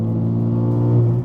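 A BMW G80 fitted with an equal-length exhaust revs hard up close, producing a loud, raspy, sustained engine note that climbs slightly in pitch before cutting off.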